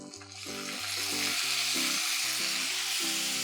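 Tomatoes fry in a pan for village-style fish gravy, giving a steady broadband sizzle over a background of sustained music tones, with no voices.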